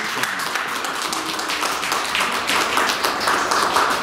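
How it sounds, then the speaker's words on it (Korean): An audience at a Korean film association's Film Day ceremony claps steadily, a dense crowd of hands ringing out close and lively for the whole stretch. "힘찬 박수 한번 쳐드립시다"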